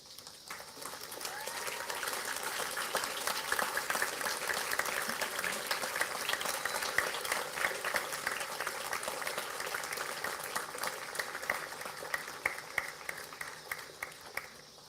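University graduates at a graduation ceremony applauding their family and friends, crowd clapping that swells after a quiet start and carries on steadily for the whole stretch, somewhat distant.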